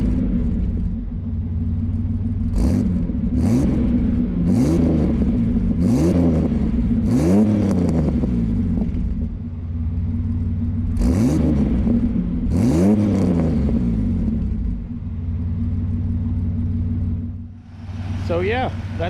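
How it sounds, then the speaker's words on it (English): A turbocharged Chevrolet S10/S15 truck engine idles with a deep rumble and is revved repeatedly, each rev rising and falling in pitch, loud and close. "I'll put you over here and maybe give it some revs."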